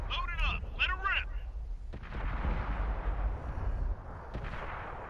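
Video-game weapon fire: a single sharp, booming shot with a long rumbling tail, heard close up, mixed with game sounds and following a short burst of electronic chirps.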